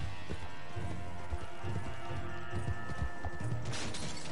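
Horse hooves in the online western video game Red Dead Redemption 2 Online, a steady galloping clip-clop that runs continuously under game background noise, with no voices.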